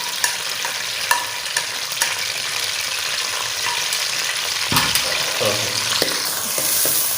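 Onions sizzle steadily in a hot pan while being cooked down to brown for a potato bhujiya, and a spoon scrapes and stirs them with a few sharp clinks and rustles, close by.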